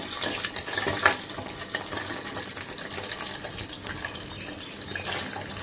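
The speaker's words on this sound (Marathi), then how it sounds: "तेलामध्ये आपण चरबीचा तडका देणार आहोत" Mutton fat sizzles as a tempering in hot oil while a Ghati-style mutton rassa is being cooked. The frying hiss is steady and bubbling, with small crackles and a few clinks of utensils throughout and no talking.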